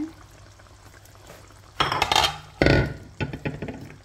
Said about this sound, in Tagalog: Haluin lang natin guys.